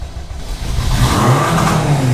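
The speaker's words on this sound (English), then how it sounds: "It's cranking really good." A Honda Civic with a newly fitted engine cranks hard and nearly catches, a loud, close, steady churning whir with no voices.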